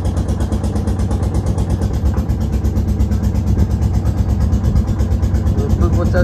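A motor boat engine chugs steadily and loudly at close range in the Sundarbans, with a fast regular pulsing throb throughout and voices faintly underneath.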